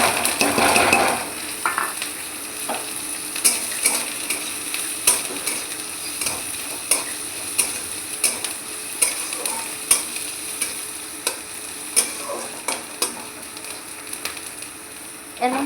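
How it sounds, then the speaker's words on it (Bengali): Capsicum and carrot stir-frying in a little oil in a wok, with a continuous sizzle under a regular run of scraping spatula strokes against the pan, roughly one every second. "এবার আমি কড়াইতে এই যে যেটুকু তেল রয়েছে তার মধ্যে এই ক্যাপসিকাম আর গাজর"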